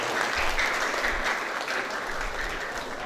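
An audience at a boarding school graduation send-off gives a steady round of applause, dense even clapping that holds at an even level without speech.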